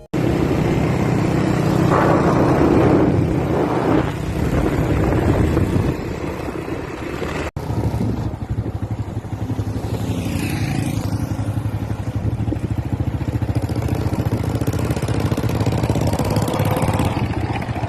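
A Honda C70 motorcycle runs steadily as a friend rides it, its engine drone loud and continuous throughout, with a brief drop near the middle and a pitch sweep that suggests it passes by or revs.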